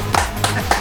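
A small audience gives a brief, weak round of applause at a casual gift-giving event, with a few scattered claps standing out from a thin background murmur.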